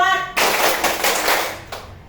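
A classroom of students claps together on a teacher's count during a class exercise, a dense burst of many hands that starts after a brief pause, then swells and fades over about two seconds, close and fairly loud.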